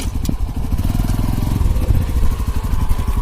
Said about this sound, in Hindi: अभी मैं इसको आपको स्टार्ट करके इसकी इंजन की साउंड भी सुना देता हूँ